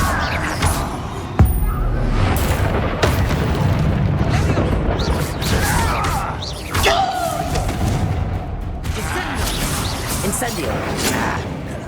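Spell-casting blasts in Hogwarts Legacy, including the Incendio fire spell: a series of booming thuds and whooshing bursts spread across about twelve seconds, with a voice speaking over the combat.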